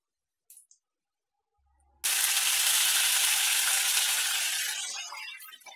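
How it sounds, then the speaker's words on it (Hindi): Mustard seeds and cumin spluttering in hot oil for a poha tempering: a sudden loud burst of crackling sizzle that holds steady for a few seconds, then fades slightly, close by and without talk. "और राई तड़कने लगे हैं"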